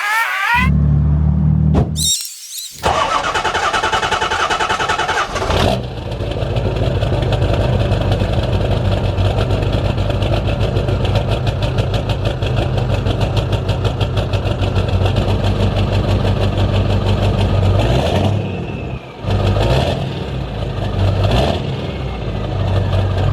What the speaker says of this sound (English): let's give her a cold start